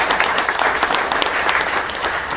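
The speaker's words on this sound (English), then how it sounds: "we can all applaud her" An audience at a Martin Luther King commemoration gathering claps in a brisk, dense round of applause, loud and continuous with scattered sharper individual claps.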